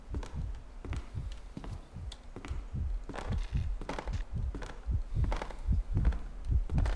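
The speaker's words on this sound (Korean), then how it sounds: "심장 소리 왜 이렇게 크게 나?" Loud, steady heartbeat thumping in a regular double-beat rhythm in a fan-made Five Nights at Freddy's horror game, deep and close, with no talking.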